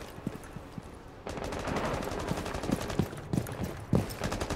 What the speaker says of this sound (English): They're already shooting.